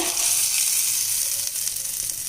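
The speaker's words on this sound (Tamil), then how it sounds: "இப்போ இந்த சட்னிக்கு நான் ஒரு தாளிப்பும் கொடுக்குறேங்க" Mustard seeds, urad dal and curry leaves tempering in hot sesame oil give a steady, loud, dense sizzle and crackle that holds without a break, with no voices over it.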